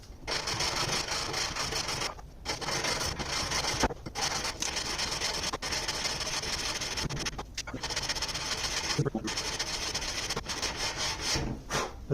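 Wood being sanded on sandpaper stuck with super glue to masking tape on a flat block while flattening part of a mandocello, making long rhythmic rasping strokes with short pauses between passes.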